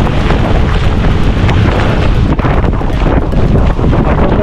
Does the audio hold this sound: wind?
yes